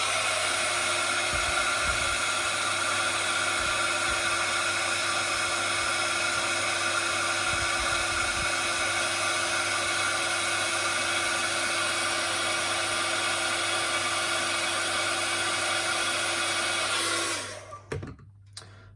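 A heat tool blows steadily on stamped embossing powder, a loud, even whir that runs unbroken for most of the stretch before switching off near the end.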